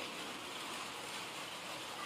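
Steady light drizzle falls outdoors near a small village pond, a soft, even hiss of patter that stays constant throughout with no voices.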